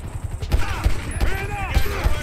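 Shotgun blasts in GTA V Online thump repeatedly at a steady pace over busy game noise, with brief whistling tones between shots.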